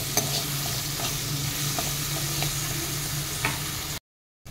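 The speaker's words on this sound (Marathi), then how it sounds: "कांदा छान परतून घेऊयात।" Onions stir-fried in a pan with ginger-garlic-chili paste, a steady soft sizzle with scattered small clicks of stirring, alone and moderately quiet throughout.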